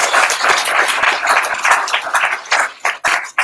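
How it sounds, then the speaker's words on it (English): Applause for a group of UX apprentices at a live event held at Google in San Francisco: a dense, steady wash of many hands clapping, sustained loudly before thinning and breaking up near the end. "one more round of applause for these wonderful apprentices"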